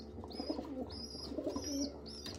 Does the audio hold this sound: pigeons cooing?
yes